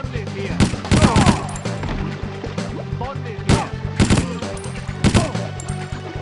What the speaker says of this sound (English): I'm liking this assault rifle